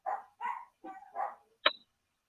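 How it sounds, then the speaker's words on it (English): Dogs bark in the background of a house, four or five sharp, fairly loud woofs in quick succession followed by two clipped yelps, with no talking over them. "Excuse the dogs in the background"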